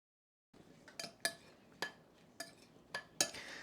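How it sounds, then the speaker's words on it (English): A spoon stirs sugar into strawberry pie filling with lemon juice, giving a handful of separate clinks and scrapes against the bowl at an uneven pace, close and fairly quiet. "So I'm just gonna stir the sugar in"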